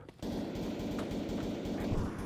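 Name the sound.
gunfire in the video game Escape From Tarkov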